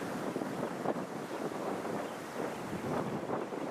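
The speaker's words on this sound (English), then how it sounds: "the wind's got worse" Strong wind buffets the microphone while fishing out on big open water, a steady loud roaring rush with gusty swells and faint wave wash beneath, no voices.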